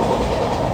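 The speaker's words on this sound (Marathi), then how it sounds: "हा आहे ट्रेनची धगधग." Steady, loud rattle and rumble of a moving passenger train, heard from inside a coach carrying a state-level competition team to Jalgaon, continuous and close with no talk over it.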